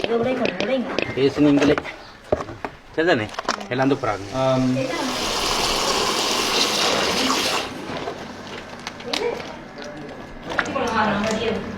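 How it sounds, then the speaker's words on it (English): Seafood being washed by hand in water at a Trincomalee beach kitchen, a steady splashing and rushing of water for a few seconds, with people talking before and after it. "She's just washing them, cleaning them up, doing it very quickly."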